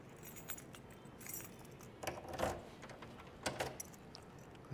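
A ring of keys jangles and clinks while keys are tried in the trunk lock of a 1967 Chevrolet Chevelle SS, with faint metallic rattles and a few sharper clicks over quiet background noise.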